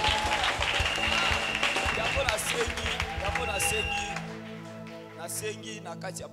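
A church congregation applauds and cheers at a closing service of a thirty-morning prayer series, a dense wash of clapping and crowd noise under a loud voice, thinning out toward the end.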